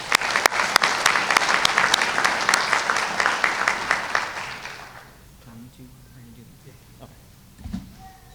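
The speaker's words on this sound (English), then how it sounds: "A quick round of applause for our award winners." Applause for award winners at a detention academy graduation ceremony, a dense burst of clapping from a crowd that fills the room for about five seconds, then fades to quiet murmurs and a brief thump.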